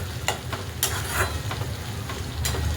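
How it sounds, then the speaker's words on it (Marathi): Onion and tomato sautéing in a pan for a potato and green pea curry: a close, continuous sizzle broken by several sharp scraping strokes of a spatula, with no one talking. "कांदा टोमॅटो छान असा परतून झालेला आहे आपला."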